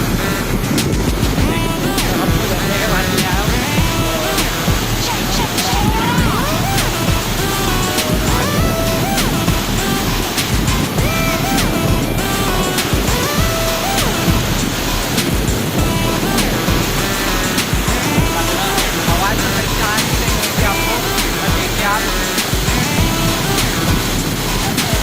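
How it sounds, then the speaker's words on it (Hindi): Dhareshwar waterfall roars in a constant, loud rush of falling water close to the microphone, with wind buffeting over it and occasional faint voices. "झरना है यहाँ पे, बहुत मस्त।"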